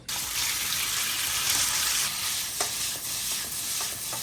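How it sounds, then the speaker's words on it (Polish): Tofu sizzles and fries in a pot, a steady loud hiss with occasional scraping stirs and clinks running throughout. "najpierw bierzemy się za podsmażenie tofu"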